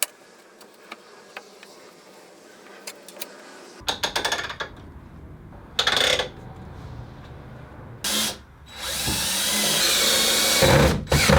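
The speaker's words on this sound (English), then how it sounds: "Then I drilled through the multiplex strips into the frames" A power drill bores through multiplex strips into wooden frames on a workbench, with short whirring bursts at first, then a longer, louder run near the end, close and clear with clicks and handling noise between.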